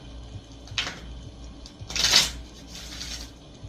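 Tarot cards being shuffled in a few quick riffling bursts, close and fairly quiet, with the loudest flutter in the middle.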